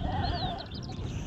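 Lambs bleating among a flock of sheep outdoors, with a couple of higher wavering calls over steady low rustling and wind-like background noise, moderately near.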